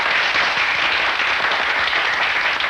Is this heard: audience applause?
yes